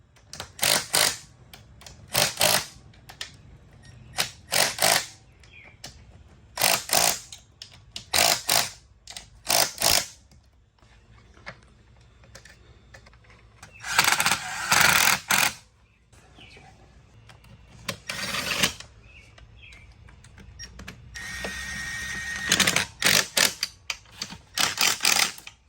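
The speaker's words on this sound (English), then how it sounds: "That's what I like about using just a little M12 impact driver, because it doesn't put out a lot of torque." An M12 impact driver tightens clutch bolts on an XR70 heavy-duty clutch install, firing repeated short, sharp rattling bursts close up, separated by pauses and quieter handling noise, with no talking.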